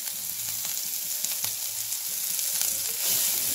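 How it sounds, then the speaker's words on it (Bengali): Grated ginger, garlic and green chilli sizzle in a pan of hot oil, a bright steady crackle with small pops and occasional stirring scrapes, close and clear with no talking. "তেলটা গরম হয়ে গেছে এবার দিয়ে দিলাম গ্রেট করা আদা রসুন আর কাঁচা লঙ্কা"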